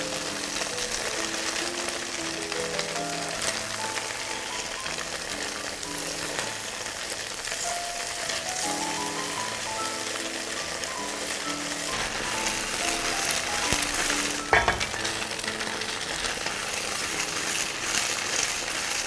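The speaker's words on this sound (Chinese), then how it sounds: "好，翻面两面都煎一煎。" Tofu pan-frying on both sides gives off a soft, steady sizzle that runs throughout, sitting beneath louder background music with a brief clatter near the end.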